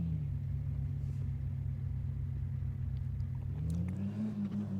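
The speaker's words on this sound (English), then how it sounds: "India car driving simulator." In an India car driving simulator video game, a car engine drones at a low, steady idle-like rumble, then its pitch climbs near the end as it accelerates.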